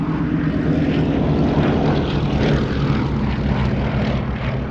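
Gloster Gladiator biplane's piston engine and propeller running at a Battle of Britain air show at Duxford, a loud steady drone that holds constant throughout, close by with no talk over it.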